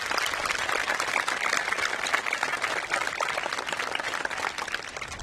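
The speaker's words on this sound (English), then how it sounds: "Would everyone please give them a round of applause?" Sustained dense applause from a large audience fills a middle school commencement ceremony, steady and even throughout.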